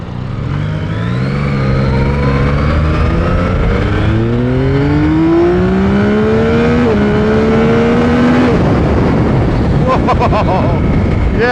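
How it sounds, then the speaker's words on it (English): A Yamaha XSR900 GP motorcycle with a CP3 three-cylinder engine accelerates hard, its loud, close exhaust note climbing steadily through the revs with a quick, smooth quick-shifter upshift partway through before the pitch breaks up near the end. "That beautiful smooth quick shifter."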